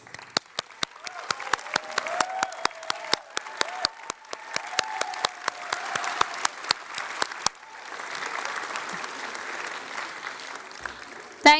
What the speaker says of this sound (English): thunderous round of applause.